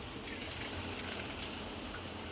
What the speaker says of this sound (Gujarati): આને હવે પાણી બધું નિતારી લેશું.